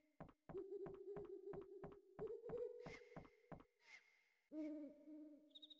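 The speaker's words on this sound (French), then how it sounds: "le bruit du hibou là, ils sont en train de me saouler" Repeated owl hoots in a Final Fantasy game, a steady rhythmic series of low calls, fairly loud and alone, with a brief chime-like tone near the end.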